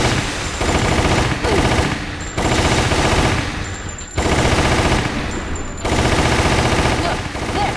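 Rapid gunfire in the video game Resident Evil: The Umbrella Chronicles, dense sustained bursts broken by brief pauses, loud and close, with game voices and effects layered in.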